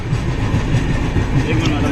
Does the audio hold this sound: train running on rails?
yes